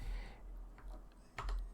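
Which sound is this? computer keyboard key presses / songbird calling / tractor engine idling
computer keyboard key presses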